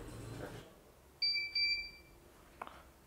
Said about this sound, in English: Now we start beeping, means it's time for fusing.